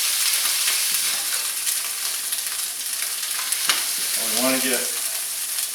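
A smash burger patty with onion sizzles hard on a hot griddle as a spatula presses it flat, a steady loud frying hiss throughout with a brief scrape near the end and a voice speaking briefly.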